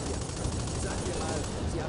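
Rapid, dense gunfire from an aircraft in the Combat Wings video game, strafing a building the player owns, forming a continuous close burst with no pauses.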